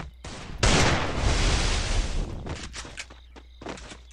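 Gunfire in a Free Fire mobile shooter match: a loud, dense burst of rapid shots fills the first seconds, followed by scattered single cracks and short volleys, with no talk over it.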